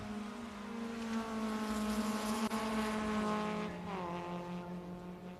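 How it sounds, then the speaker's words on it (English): BMW race car engines hum steadily at high revs at Porsche Ring, Estonia, a harmonic drone with a pitch shift midway as cars pass and downshift. "we can just enjoy the engine sound of these"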